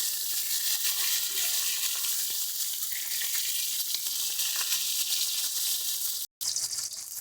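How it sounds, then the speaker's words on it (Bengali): Hilsa fish heads fry in hot oil, giving a steady, bright sizzle that stays close and even before a sudden brief cut, then resumes. "দেখো মাছের মাথাগুলোকে আমরা সুন্দর করে দু পিঠি উল্টে পাল্টে ভেজে দিচ্ছি।"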